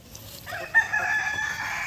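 A rooster of an asil or shamo gamefowl flock crows once loudly and close, a sustained strained call, with soft clucking and farmyard murmur before it.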